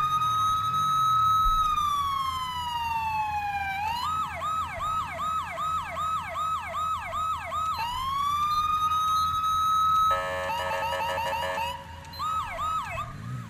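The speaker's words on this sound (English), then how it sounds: "They're now rocking the uh, California Highway Patrol sirens." A California Highway Patrol police siren from a video game mod cycles through a steady wail, a rapid yelp, and a fast hi-lo warble, loud and continuous with no talking.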